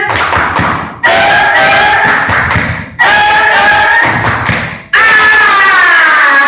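A group claps a tepuk semangat cheer in rhythm, loud and close, in three quick clapping bursts split by short pauses, with voices chanting along.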